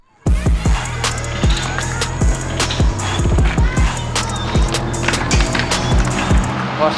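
A Neptune Customs electric skateboard being ridden, wheels rolling loudly with repeated clacking bumps over seams in a quick, uneven rhythm, close and continuous after a sudden start.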